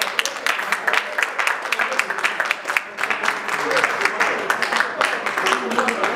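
Audience applause at a general assembly of the Congolese community of Montreal, dense clapping sustained throughout with voices mixed in underneath.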